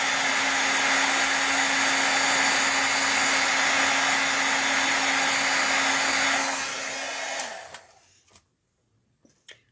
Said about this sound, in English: you want to take your heat gun and go over it again to set it